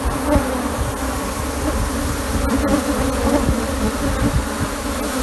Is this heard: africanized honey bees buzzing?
yes